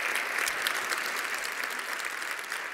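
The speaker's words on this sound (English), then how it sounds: "A big applause from all of us." Audience applause at the end of a business talk on geopolitics, a steady, fairly loud wash of clapping from a sizeable crowd with no voices over it.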